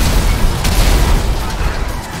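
A sticky bomb (C4) detonates in GTA V Online. A loud, dense explosion roars and rumbles without a break, heavy in the low end, and fills the whole moment with no voices over it.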